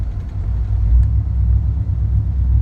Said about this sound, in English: I like that rough idle